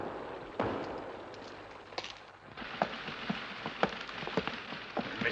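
Steady light rain falling outdoors in misty weather, a continuous soft patter with scattered sharper drops and splashes standing out, moderately close and heard alone without talk.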